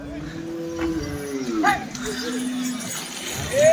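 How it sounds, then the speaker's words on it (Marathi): Bulls at the busy Chalisgaon bull market let out low drawn-out moos close by, with crowd voices and speech mixed in the background. "हे बैल बघा"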